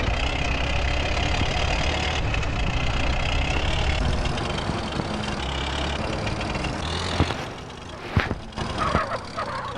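Motorbike engine idling in the video game GTA San Andreas, a steady low rumbling drone that holds evenly before a few sharper thumps and clatters near the end.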